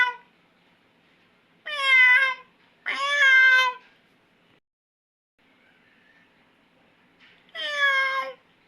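A cat stuck up a tree meows three times, two drawn-out cries close together and a third after a long quiet gap. Each meow is loud and clear against near silence.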